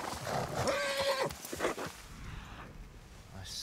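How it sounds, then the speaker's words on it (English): A horse in Red Dead Redemption 2 whinnies briefly over a low rumbling background, followed by faint snorts and shuffling. "Those are horses."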